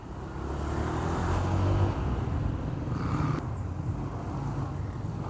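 Car creeping through slow road traffic near a busy roundabout, a steady low engine hum and road rumble throughout, fairly close and continuous, with no voices over it.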